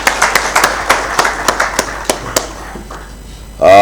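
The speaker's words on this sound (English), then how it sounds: "Can we give another round of applause to" At a winter school conference in Victoria Falls, a thin round of clapping comes in sharp, separate claps that thin out and fade, ending in a sudden burst of louder noise.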